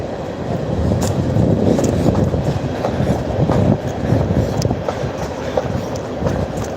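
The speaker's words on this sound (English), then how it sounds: "Just glad these coal trains are over a mile in length" A long coal train rumbles steadily across the Harahan trestle bridge, with a continuous loud roar of wheels and faint clickety-clack from the railcars, no voices.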